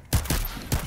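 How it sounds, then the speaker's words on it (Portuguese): Sniper rifle fire in The First Descendant: two sharp, heavy shots roughly half a second apart, close and loud with a short ringing tail between them. "E sniper."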